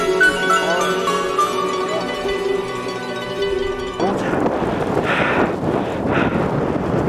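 Harsh, roaring mountain storm wind with snow buffets the microphone in rough gusts, breaking in abruptly after a few seconds of steadier tonal sound.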